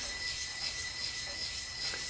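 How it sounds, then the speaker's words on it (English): Sandpaper rubs by hand in a steady, close, breathy rasp with light strokes and no voices. "with the sandpaper, I'll put a fair amount of force on it in the beginning, and then as I get really close, I'll barely push down on it"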